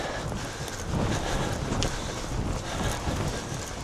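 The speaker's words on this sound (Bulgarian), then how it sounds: "гаден вятър. Брат, то вятъра го прави много гадно." Strong wind buffets the microphone outdoors during a 10 km run, a loud, steady rumbling roar with gusty swells and no talking.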